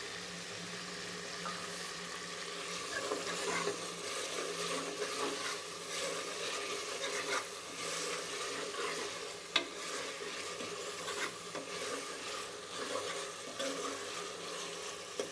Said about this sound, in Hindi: अब इसके साथ ही मैं जो गोश्त है वो शामिल कर दूंगी और इसको भी अच्छे से भून लूँगी।